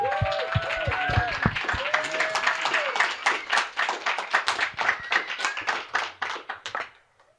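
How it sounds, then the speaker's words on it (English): A crowd at a business branding event gives a round of applause, opening with a few whoops and voices over dense clapping that thins into scattered claps and fades out near the end. "round of applause for Maurice, guys."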